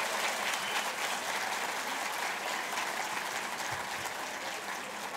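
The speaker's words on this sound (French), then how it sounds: "applaudissez vos professeurs et les cadres administratifs de l'école" Standing graduates at a Moroccan engineering school's diploma ceremony applaud their professors and administrative staff, a loud, dense wash of continuous clapping from a large crowd that keeps going without a break.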